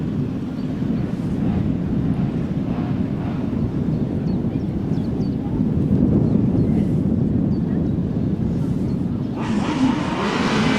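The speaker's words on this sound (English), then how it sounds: "Revving up on the line for the second heat of the big chairs then." Grasstrack racing sidecars rev on the start line, a continuous dense engine roar with wind buffeting the microphone, steady and loud throughout.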